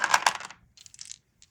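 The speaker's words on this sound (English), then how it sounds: "I'm having a hell of a time with dropping dice today for some reason." Dice dropped during a tabletop war board game, a quick cluster of hard clattering hits that tumble and settle, followed by a few lighter rattles and one final small tick.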